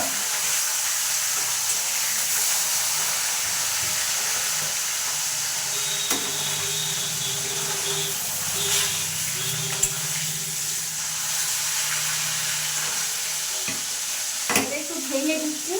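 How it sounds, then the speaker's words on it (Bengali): A fish head fries in oil, crackling and sizzling steadily nearby, with scattered clicks and scrapes from the spatula and a short knock near the end. "এবারে একটা মাছের মাথা ভেজে দিচ্ছি"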